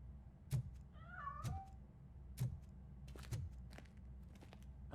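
A cat meows in the video game RoboCop: Rogue City, a short wavering cry heard once near and clear, set among sparse footsteps and soft clicks.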